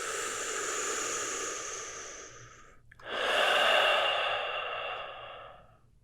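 Slow, deep breathing during a yoga pose, one long, close exhale fading out, then a brief pause and another full breath swelling and slowly tapering.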